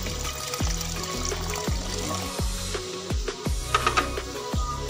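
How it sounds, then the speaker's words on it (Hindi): Water poured by hand into a peach drink mixture with sugar and ice, giving a series of short splashing pours and clinks of ice, close and moderately loud with no talking. "थोड़ा सा इसमें डालेंगे पानी"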